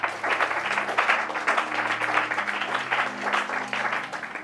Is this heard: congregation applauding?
yes